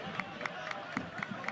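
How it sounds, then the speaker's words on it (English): A single person, the Oklahoma City coach, claps at a soccer match between Indy Eleven and OKC Energy FC, giving about seven quick, evenly spaced claps over a soft stadium crowd murmur. "the applause you hear, that's Coach Beedman for Oklahoma City, liking what he is seeing"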